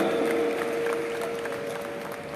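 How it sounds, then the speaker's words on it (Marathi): An audience at the inauguration of a National Women's Parliament in Goa applauds in a steady, moderately loud wash of clapping, with a thin constant tone from the hall's sound system running beneath it. "टाळ्यांचा मोठा कडकडाट पुन्हा एकदा"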